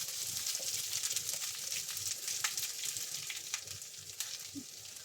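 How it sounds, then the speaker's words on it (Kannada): Curry leaves and onion crackle and sizzle steadily in hot oil in a home kitchen, a close, continuous frying hiss with scattered sharp pops throughout. "ಕರಿಬೇವು ಸೊಪ್ಪು, ಇದು ಚಟಾಪಟ ಅನ್ಬೇಕು."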